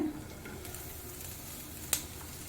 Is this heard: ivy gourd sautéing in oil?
yes